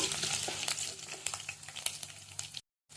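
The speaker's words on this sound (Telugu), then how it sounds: "శనగపప్పు వేసుకోవాలి, ఆవాలు జీలకర్ర వేసుకోవాలి, వెల్లుల్లిపాయలు వేసుకోవాలి. వెల్లుల్లిపాయలు కాస్త వేగాలి." Close, steady sizzling and crackling of garlic frying in hot oil with chana dal, mustard seeds and cumin, with small stirring scrapes throughout. It cuts out briefly near the end.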